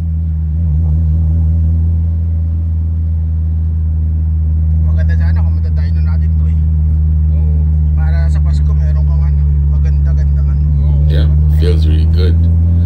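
A Honda Civic with a D16A6 VTEC engine accelerating, a loud steady low engine rumble that swells slightly under throttle, with people talking over it.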